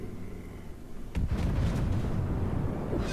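Heavy stern guns of a battleship fire in World of Warships, a deep booming blast breaking in after a quieter stretch and rolling on as dense, sustained low rumble to the end.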